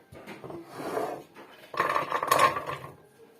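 A metal cooking pot clanks and scrapes in two short bursts of handling as quinces are added for jam, close by, with no talking.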